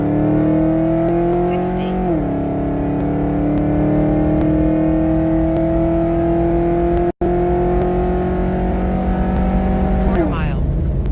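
A Ford Torino with a 306 engine and 4R70 transmission accelerates hard and loud up close, engine note climbing through gear shifts with a brief dropout, while a voice speaks over it.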